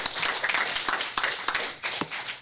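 At a city council meeting, an audience applauds with dense, steady clapping throughout this short stretch.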